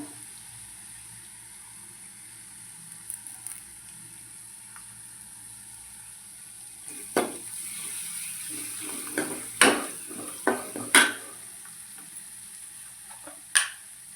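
Curry leaves sizzle in hot tempering oil for spicy Marathi dahi kadhi, a soft steady frying hiss with several sharp crackling pops that grow louder toward the end.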